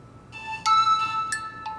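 A mobile phone rings with a bright electronic melodic ringtone, a few clear tonal notes in quick succession, loud and close against a quiet background.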